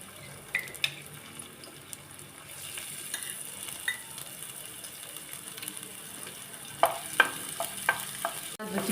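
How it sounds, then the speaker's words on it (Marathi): Garlic-ginger paste hitting hot oil in a pan gives a steady soft sizzle, with a few sharper clinks and scrapes of stirring toward the end. "आता आपण याच्यात आहे ना लसूण अद्रकची पेस्ट टाकूया."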